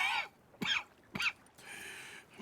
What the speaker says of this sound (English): That's quite a cough.